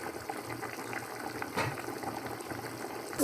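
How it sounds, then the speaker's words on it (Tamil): Water boiling in a covered pot for mutton biryani, a steady bubbling hiss with a brief louder surge midway, close and alone without talk. "தண்ணி நல்லா கொதிச்சிட்ருக்கு."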